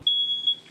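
A smoke detector being tested in an apartment gives a single steady high-pitched electronic beep, clear and fairly close, lasting most of a second, with no talk.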